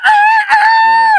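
A person's voice imitates a rooster crowing, one loud drawn-out cock-a-doodle-doo call held steady for about a second before trailing off, close and alone with no other talk.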